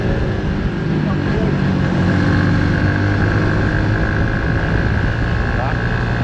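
A Suzuki V-Strom 160 motorcycle on a long ride: a continuous engine drone mixed with wind rush, steady and close, while someone talks over it.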